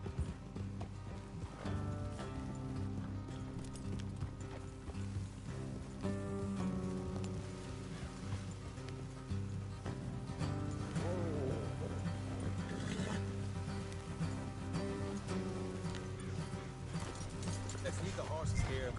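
Horses' hooves clip-clopping along a road in Red Dead Redemption 2, steady trotting rhythm under game music and rain-like ambience, with voices talking over it.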